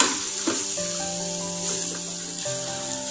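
Spinach thoran, a Kerala-style stir-fried spinach, hissing softly in a pan as it is stirred, with a scrape or knock at the start and a sustained tonal hum underneath.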